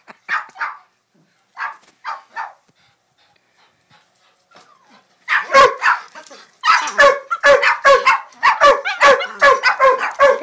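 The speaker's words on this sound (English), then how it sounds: "what he's barking at" A dog barks at a bird, starting with a few short, spaced yips and woofs, then breaking into a rapid, loud run of close barks mixed with panting and whimpers.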